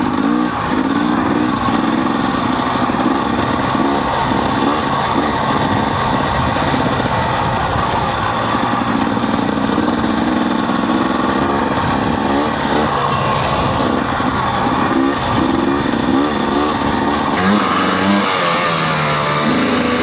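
A motorcycle engine drones loud and continuous while riding an unfamiliar trail split, its pitch shifting with throttle changes and bumps throughout, with no talk.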